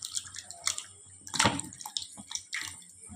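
Raw green tomatoes being washed in water, with irregular splashes and drips close up, one louder splash burst midway and smaller sloshes after.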